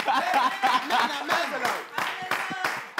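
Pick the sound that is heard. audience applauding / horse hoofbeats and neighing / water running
audience applauding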